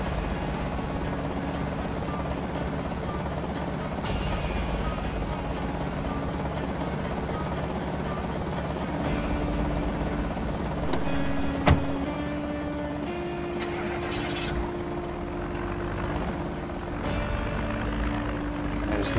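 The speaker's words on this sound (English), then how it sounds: "Alright, I hope that's it for the helicopter." A helicopter in a video game drones steadily overhead for the whole stretch, a constant rotor hum with faint engine tones, loud and unbroken, without talk.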